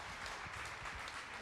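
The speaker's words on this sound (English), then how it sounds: "Maybe a round of applause to the panelists." Audience applause for panelists at an AI in healthcare event, a dense wash of many hands clapping, moderately loud and steady throughout.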